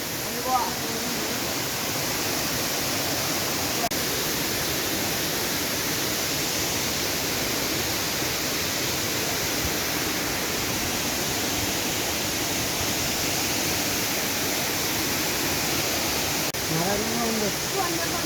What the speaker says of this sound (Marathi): सुंदर धबधबा आहे.